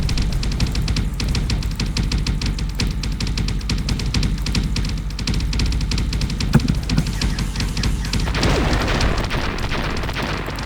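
Ship cannons fire in a space combat video game, a dense, continuous barrage of booming, crackling shots that stays loud throughout, with a harsher rushing burst near the end.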